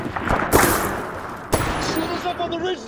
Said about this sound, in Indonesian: tiba-tiba dari sisi atas mereka dihujani tembakan.